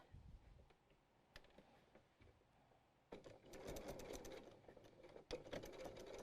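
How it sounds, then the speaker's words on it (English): A sewing machine stitches a quilted tote bag, starting with soft intermittent ticks, then running in a steady faint whir of rapid needle strokes after a few seconds. "now we can go back and sew it up."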